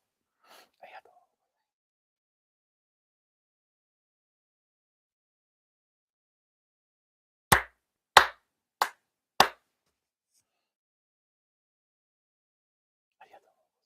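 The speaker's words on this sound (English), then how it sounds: "four sincere claps" Four crisp hand claps ring out in an even rhythm during a monthly Shinto ceremony, sharp and close in an otherwise quiet room, with faint murmured voices before and after.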